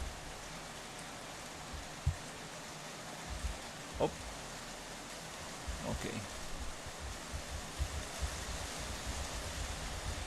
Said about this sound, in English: Wow, we got some rain.